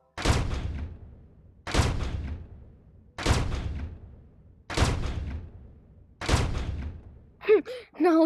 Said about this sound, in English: laser sniper.